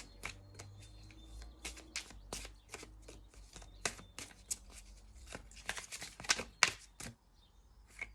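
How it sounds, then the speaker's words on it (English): Healing energy oracle cards shuffled and drawn from a deck, a quiet series of soft riffling flicks and papery slaps up close, fairly faint. "I'm going to pull one of these healing energy oracle cards."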